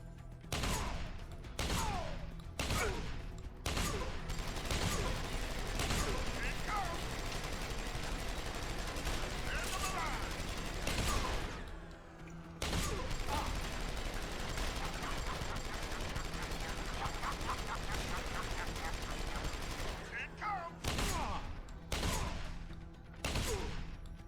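Shotgun blasts in Deus Ex: Human Revolution Director's Cut, loud repeated bursts of gunfire with a short lull midway, dense and close, with game sound running underneath throughout.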